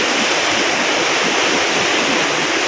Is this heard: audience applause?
no